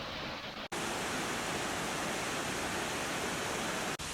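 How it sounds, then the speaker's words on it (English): Harrison Wright Falls, a 27-foot waterfall at Ricketts Glen State Park, roars as a loud, steady, close broadband rush, broken by two brief dropouts, with no voices. "This one is Harrison Wright, the 27-foot waterfall."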